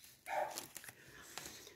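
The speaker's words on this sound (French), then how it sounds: "Et ça fait aboyer tous mes chiens." Several dogs bark in short, faint yips and bow-wows, set off by neighbours passing on mopeds, the barks distant and scattered across under two seconds.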